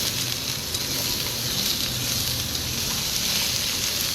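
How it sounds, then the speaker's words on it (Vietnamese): Straw mushrooms stir-fry in a hot pan at a crab noodle soup eatery, giving a loud, steady, close-up sizzle and crackle that runs unbroken with no talk over it. "Đảo mình xào nấm rơm."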